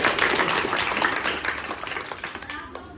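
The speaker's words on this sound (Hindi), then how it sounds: "तालियां हो जाए प्रिंस के लिए" Applause from a group of children at an NGO gathering, greeting a child named Prince as he comes forward; dense, steady clapping close by that thins out slightly toward the end.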